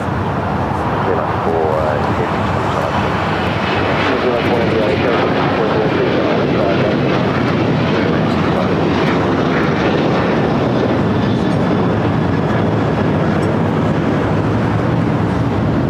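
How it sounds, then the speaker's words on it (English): A Southwest Airlines jet on arrival from Phoenix at LAX produces a loud, sustained engine roar with a broad rumbling wash that holds steady throughout, with people talking over it. "Southwest Airlines flight 3839 coming in from Phoenix, Arizona"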